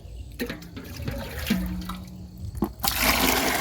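Water is poured from a two-litre mug into a container of paddy seeds to soak them, a loud close gush and splash that pauses briefly, then surges again more strongly.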